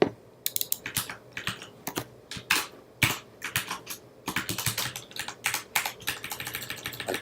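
Rapid, uneven typing on a computer keyboard, a dense run of sharp clicky keystrokes with brief hesitations, close and fairly loud with no speech over it.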